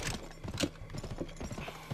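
Horse hooves clip-clop in a steady quick rhythm in the Western video game GUN, close and moderately loud over a brief stretch with no talk.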